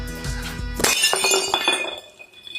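A glass jar for jam hits the floor with a sudden loud crash, followed by ringing shards and scattered tinkles that fade out.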